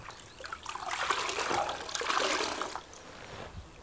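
Wet, sloppy mortar mix poured and slopped into cracks on a garden love seat build, a close liquid trickle and splatter swelling and fading over a few seconds with no talk.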